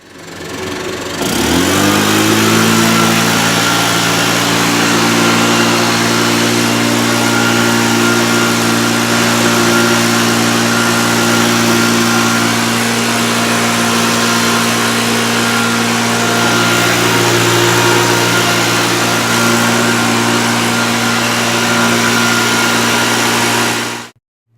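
A Makita MM4 backpack blower runs steadily at full throttle while blowing snow, a loud continuous engine drone with a rushing airflow hiss that starts about a second in and holds until it cuts off at the end.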